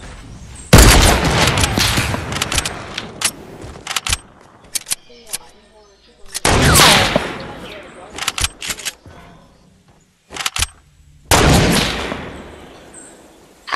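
Heavy sniper rifle shots in Fortnite, several loud broadband cracks with echoing tails spaced across the stretch, interleaved with players talking.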